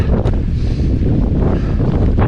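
Strong wind buffets the microphone on a UK mountain summit during the Three Peaks Challenge as clouds roll in, giving loud, close, continuous roaring gusts.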